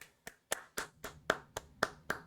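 One person claps alone during a game-review show, with about eight slow, separate claps that are quiet, fairly close and spaced out with silence between them.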